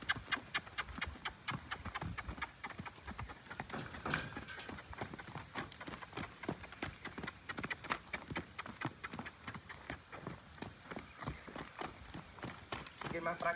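A stallion's hooves clip-clop steadily as it walks with a gait in the picada style. Even, closely spaced footfalls sound clearly and fairly near throughout.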